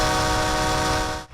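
A train decked out in Christmas lights for a holiday ride rumbles steadily and loudly up close, with strong tonal horn-like harmonics running throughout before cutting off abruptly at the end.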